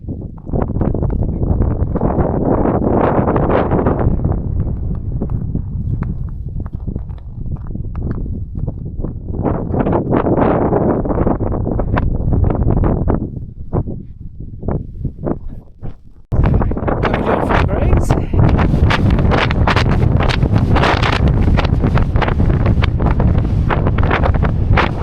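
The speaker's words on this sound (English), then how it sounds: "the wind is not stopping" Strong wind batters the microphone on Grays and Torreys Peaks, a loud roaring buffet that surges in gusts, dips briefly and then returns even harder.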